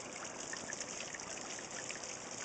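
Water trickles faintly and steadily into a waterfall bog build among rocks, a soft continuous hiss and dribble with no talk.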